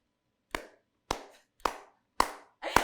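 Single sharp hand claps, five in a row spaced roughly half a second apart, crisp and close in a quiet room, the last two slightly doubled.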